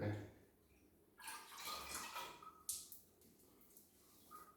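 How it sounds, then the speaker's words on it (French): Tap water runs during ritual ablution washing, a broad splashing flow that swells and breaks as hands and face pass under it, with a sharper splash partway through and no talk over it. "Est-ce que je peux utiliser le robinet directement?"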